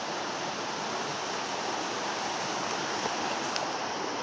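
Water flows near a hiking trail, a steady, fairly faint broadband rush like a stream or small waterfall, continuous and unbroken. No one speaks over it.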